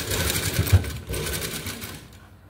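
A sewing machine stitches the lining of an umbrella frock, a close, steady run of rapid stitching that pauses briefly near the middle, then resumes and fades toward the end.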